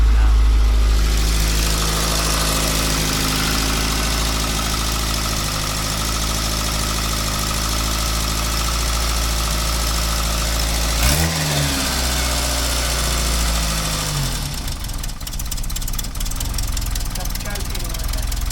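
A cold Austin Allegro engine idles slowly with a low, steady rumble close by, dipping briefly midway before settling again, while people talk nearby.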